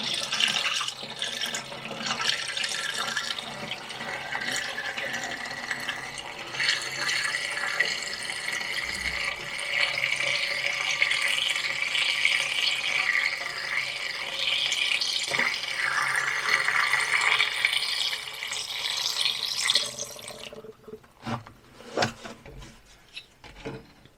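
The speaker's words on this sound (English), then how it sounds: "I'm going to add a little bit of water now," Distilled water pours steadily into the coolant system of a Rover V8 for about twenty seconds, a continuous close splashing trickle with a few knocks and handling sounds after it stops.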